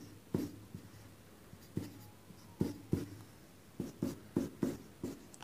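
Pen or marker strokes writing out a price index formula, a string of short sharp taps and scratches in irregular bursts, close and fairly quiet with no talking.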